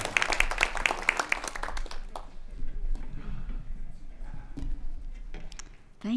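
A church congregation at a Sunday service breaks into a brief burst of applause and clapping that fades after a couple of seconds, leaving the low murmur of the room with scattered voices.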